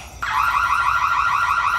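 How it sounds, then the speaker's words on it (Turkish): A burglar alarm in an animated series suddenly starts up and keeps sounding, a loud, steady electronic tone ringing without pause. "alarm çalmaya başlar"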